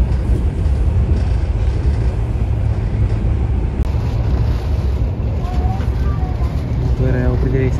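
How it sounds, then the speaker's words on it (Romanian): An interregio train runs across the Bărăgan plain on the Fetești–Făurei line, giving a steady, loud rumble with wind noise throughout and faint squeals near the end. "un tren interregio"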